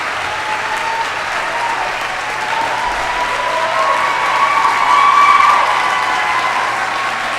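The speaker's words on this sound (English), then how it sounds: "Let's give another round of applause" Sustained applause from a large crowd at a college Martin Luther King Jr. Day convocation, a dense steady clatter of clapping that swells slightly toward the end, with faint cheering mixed in.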